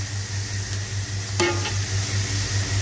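Vegetables fry in a pan for Chinese rice with a steady, loud sizzle over a low hum, broken once by a single sharp utensil clink against the pan.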